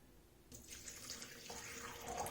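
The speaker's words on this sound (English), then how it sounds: "and I add some water" Water runs from a tap into a bowl holding yeast for bread dough, a steady close splashing stream that grows slightly fuller toward the end, with no talking.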